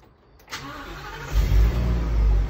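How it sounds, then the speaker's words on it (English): A school bus engine cranks briefly and catches during an air brake test, then settles into a loud, deep rumbling idle close by with a slight rev. "I turn on the engine."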